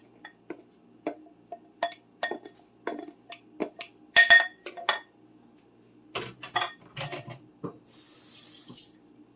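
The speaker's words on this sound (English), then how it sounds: "Dump the entire amount of potatoes from your bowl onto the pie dish." Potatoes dumped from a bowl onto a pie dish, a run of close clinks, thuds and scrapes of kitchenware in irregular bursts, ending in a short hiss of running water, no talk.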